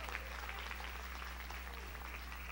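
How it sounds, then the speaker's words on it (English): A congregation applauds during a 1985 Sunday evening church service as the preacher speaks: a steady, faint wash of many hands clapping at a distance over a low electrical hum. "Give him a good clap offering."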